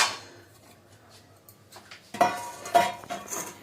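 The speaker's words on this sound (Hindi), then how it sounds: "ये मैंने बाउल ले लिया, अब इसमें मैं स्पून से बेसन निकाल लूँगी" Metal spoon clinking against a bowl while scooping gram flour (besan), a few soft scrapes followed by two or three sharper clinks close by, with no talking.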